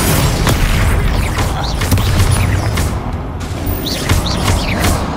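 Confringo spell explosions in Hogwarts Legacy, repeated booming bursts with crackling debris and whooshing effects over a busy, dense game soundtrack, loud and close, several blasts in quick succession.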